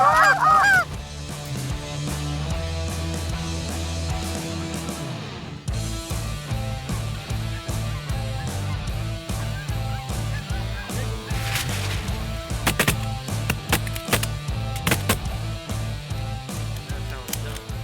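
Canada geese honking in the Columbia Basin, a dense, continuous chorus of overlapping honks from a large flock, loud and sustained with no talk.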